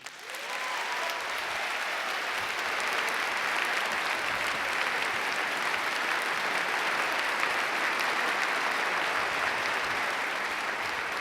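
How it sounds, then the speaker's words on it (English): A debate audience in Toronto breaks into sustained applause, a thick unbroken wash of many clapping hands building quickly and holding loud and steady for the whole stretch, with almost no talk. "Applause."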